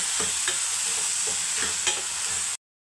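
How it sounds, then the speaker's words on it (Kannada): Tomato frying in a pan for a soybean gravy, a steady close sizzle with a few light stirring scrapes and clinks, no talking. "ಟೊಮೊಟೊ ಒಂದು 5 ನಿಮಿಷ ಚೆನ್ನಾಗಿ ಫ್ರೈ ಮಾಡ್ಕೊತೀನಿ"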